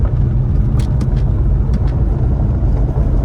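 Chevrolet Silverado show truck accelerating hard in second gear with traction control off, a loud, steady engine roar and rumble that stays close and continuous throughout, with no talking.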